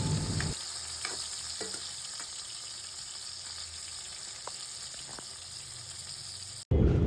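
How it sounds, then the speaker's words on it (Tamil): Eggplant pieces sizzle and fry steadily in hot oil with turmeric and salt in a kadai, a continuous close crackle with occasional stirring scrapes, cutting off briefly near the end. "இந்த கத்திரிக்காவெல்லாம் போட்டு நல்லா வதக்கி தனியாக எடுத்து வச்சுக்கிறேன்"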